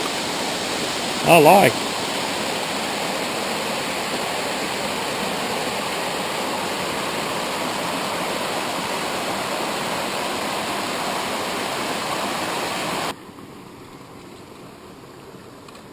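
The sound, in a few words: small waterfall cascade below a pond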